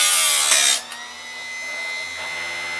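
Harbor Freight chainsaw chain sharpener grinding a chain tooth, a loud, close, high whining grind lasting under a second, then the motor's steady lighter hum continuing alone.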